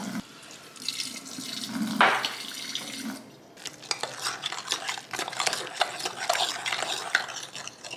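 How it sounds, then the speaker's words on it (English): Water pours from a sink tap into a pan of beaten eggs while making pancakes, a splashing, bubbling stream mixed with clinking utensils and stirring in a kitchen. "now we want to pour the water so it isn't as dry"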